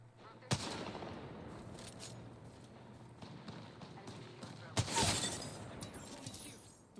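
Apex Legends gunfire crackles in bursts, with two sharp loud reports standing out over a steady busy game soundscape and occasional voiced callouts.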